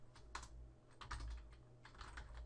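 Quiet typing on a computer keyboard, entering a folder path for an XBMC add-on, with bursts of clicky keystrokes in quick clusters over a low background hum, no talking.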